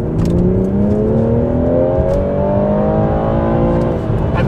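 BMW M240i coupe accelerating hard at full throttle, its engine note climbing steadily in pitch through a loud, continuous pull, recorded from inside the car with a brief shift dip near the end.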